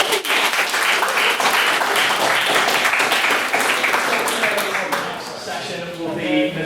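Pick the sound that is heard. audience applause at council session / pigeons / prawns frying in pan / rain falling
audience applause at council session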